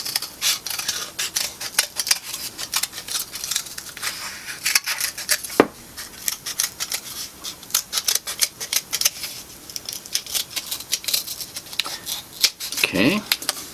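Scissors snipping paper or craft material to cut out two joined circle shapes, a steady run of close, crisp cuts with a faint voice in the background.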